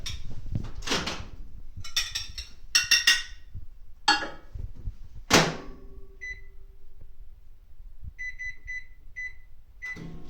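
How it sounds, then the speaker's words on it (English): Kitchen clatter and a door closing, then a low hum of a microwave oven running, followed by a series of short electronic beeps. "toss it into the microwave"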